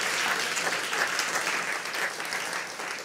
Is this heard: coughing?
no